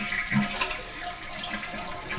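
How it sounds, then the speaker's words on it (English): A running toilet being flushed by its handle, a rushing, gurgling swirl of water close by, steady for the whole moment with no talk over it. "go ahead and flush it"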